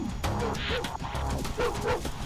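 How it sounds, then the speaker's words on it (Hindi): A dog barks and yips in short repeated bursts up close, set against a noisy, dense action-movie soundtrack with a rumbling low-end backdrop. "वो भी मुझे ही देखकर किस तरह से भौंक रहा है"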